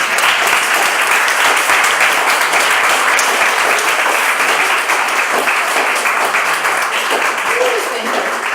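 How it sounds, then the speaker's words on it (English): A large audience at a corporate staff meeting on employee engagement survey results gives a loud, sustained round of applause for a colleague. The clapping stays dense and steady for the whole stretch and fades slightly only at the very end. "Can I ask you to give a round of applause to Anna Amosova?"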